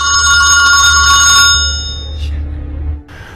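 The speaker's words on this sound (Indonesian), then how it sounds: "telepon ibunya pun berdering dan si Charlie langsung menutup teleponnya." A telephone rings in the film Trust with a bright, steady electronic tone for about a second and a half, then stops, leaving a low background hum and a brief rustle.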